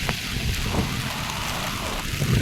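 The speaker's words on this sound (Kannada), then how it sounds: "ಮಳೆ ಮಾತ್ರ ಸಿಕ್ಕಾಪಟ್ಟೆ ಮಳೆನೂ ಬರ್ತೈತೆ" Heavy rain at the coast at Murudeshwar roars steadily without a break, with a low rumbling wash underneath that could be wind, waves or distant thunder.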